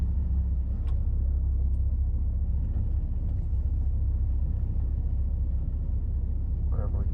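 Automatic 2014 Ford Mustang V6 on a 0-60 run, heard from inside as a steady low engine rumble and road drone throughout, loud and continuous with small bumps and knocks.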